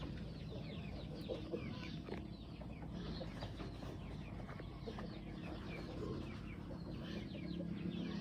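A brooding hen sitting on a clutch of more than ten eggs clucks softly at a farm, with low, intermittent calls over steady background noise and other birds.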